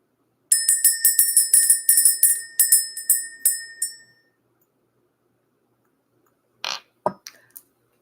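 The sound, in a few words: bell being rung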